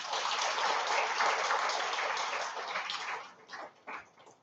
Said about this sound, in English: let us please give a round of applause for Ms.